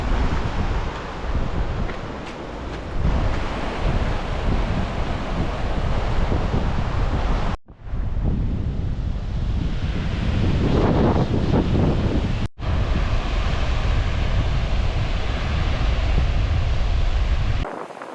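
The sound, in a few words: sea waves on rocky shore at Alibaug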